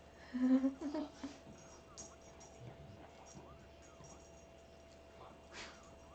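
A dog whimpering close by, a few short high-pitched whines and yips clustered early, followed by quiet room noise with faint rustling.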